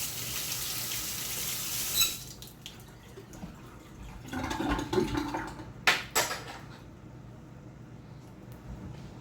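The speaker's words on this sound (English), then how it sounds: "let me wash my hands" A tap runs into a sink in a kitchen, with a steady water hiss at first, then intermittent splashing and clatter as hands are washed, close by.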